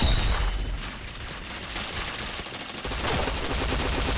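Continuous loud, dense gunfire in a shooter video game runs as steady rapid automatic fire with overlapping shots and no pauses.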